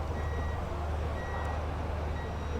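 The powered tailgate of a Mahindra BE 6e or XEV 9e electric SUV gives a series of steady, moderately loud warning beeps over a constant low hum while it operates.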